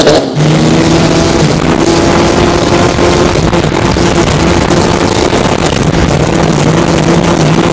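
Homemade racing boat with a turbo diesel engine in Thailand, running loud and steady with a constant droning hum throughout, no speech.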